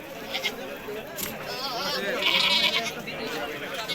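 Goats and young kids bleating at a busy rural goat market selling local village goats and bucks, with a steady crowd murmur and people talking nearby throughout.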